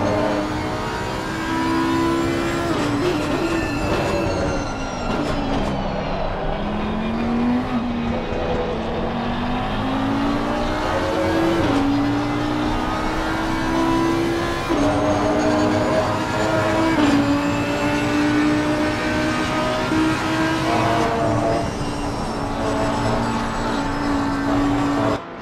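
Audi A8 race car in a sim racing game at Silverstone, its engine droning steadily and loudly throughout with rising and falling pitch through gear changes, heard alone without talk.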